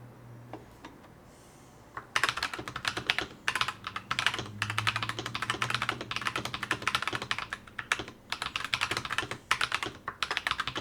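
Rapid clacky typing on a NuPhy Halo96 mechanical keyboard with Rose Glacier tactile switches, steady bursts of close key presses after a brief quiet start.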